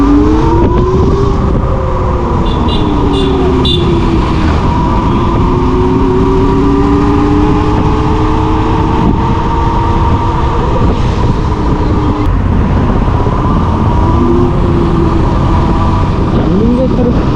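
A YATRI motorcycle on a test ride gives a loud, steady whine that rises and falls slightly, heavily mixed with wind rush, while a rider talks over it.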